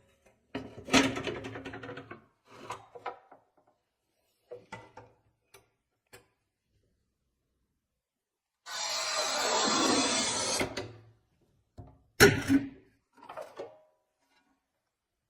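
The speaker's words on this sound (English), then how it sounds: "you can even cut a very hard porcelain tile just using your finger" Montolit Masterpiuma P5 manual tile cutter working a hard porcelain tile: sharp clicks and knocks, then a sustained rasping score about two seconds long, followed by a loud snap and a few lighter taps.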